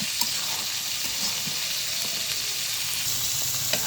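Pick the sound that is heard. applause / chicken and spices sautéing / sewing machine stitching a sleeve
chicken and spices sautéing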